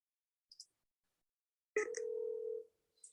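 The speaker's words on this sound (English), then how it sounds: "I hope you can hear it ringing." A telephone ringing through a speakerphone: faint beeps, then a single sustained electronic ring tone lasting under a second, followed by more soft beeps.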